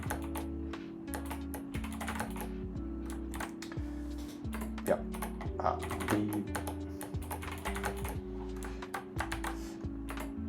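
Keys clatter on a new computer keyboard in quick irregular bursts of close, crisp clicks, with brief pauses between runs over a low steady hum.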